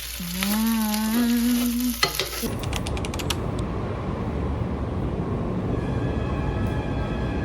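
Kimchi fried rice sizzling and frying steadily, close and fairly loud, with a brief high whistle-like tone and some clatter near the start before the sizzle carries on evenly.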